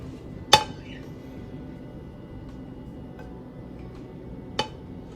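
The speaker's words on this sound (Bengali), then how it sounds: "আমি এবার ঢেকে দিব, এই যে আমি ঢেকে দিলাম।" A metal lid set down on a pot of Dhakaiya pakki biryani, one sharp clink at the start and a second lighter clank a few seconds later, close and alone in a quiet kitchen.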